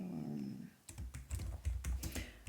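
Keys clack on a computer keyboard as a short written review is typed, a quick irregular run of close, crisp taps after a brief quiet moment.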